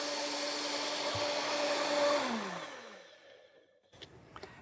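A kitchen blender whirs loudly and steadily as it blends a gritty cashew mixture, then winds down and cuts off, leaving a brief stretch of quiet and a couple of light clicks.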